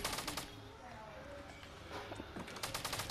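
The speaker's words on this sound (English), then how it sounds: "Oh, someone's shooting." Rapid bursts of gunfire in the Fortnite battle royale video game, near Tilted, crackling in clusters at the start and end with quieter shots between, under a busy game mix.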